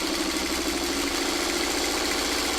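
Sewing machine stitching along a marked line on a quilt block, a steady continuous motor whir with a fast even rhythm, close and alone without talk.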